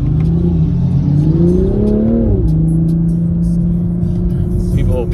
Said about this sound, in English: But I'm in sport mode. The exhaust flap is open for the right side,